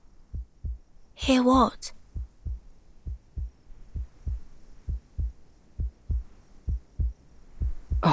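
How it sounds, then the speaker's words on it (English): A heartbeat just outside a door in the video game Reverse 1999: steady, deep, thudding beats repeating about once per second over a low hum, with a brief spoken line partway through. "A heartbeat. Right outside the door."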